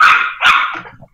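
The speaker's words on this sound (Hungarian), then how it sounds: "Na, annak aztán volt hangja ennek a kutyának." A dog gives two loud, close barks in quick succession, the second trailing off into a softer yelp.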